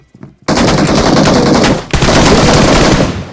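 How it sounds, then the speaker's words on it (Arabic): Loud automatic gunfire from the shooter game PUBG, two sustained bursts of rapid shots with a brief gap between, close and dominant with no talking. "صوت الضرب."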